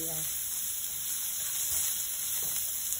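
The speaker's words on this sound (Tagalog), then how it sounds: "Add natin ng onion and garlic. Sauté-sauté lang natin guys hanggang mag light brown" Onion and garlic sizzle steadily in a hot pan, a continuous close frying hiss with faint stirring, no talk over it.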